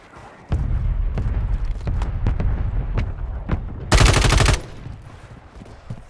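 Gunfire in a video game: a rapid string of sharp, loud shots in bursts, then a dense sustained blast of automatic fire near the middle, trailing off into quieter shots.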